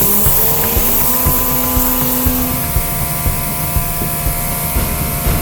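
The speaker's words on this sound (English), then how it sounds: "Pressure washer." A pressure washer sprays water over a brand-new Tesla Model Y, making a loud, continuous hissing rush with a steady motor drone underneath and no talk.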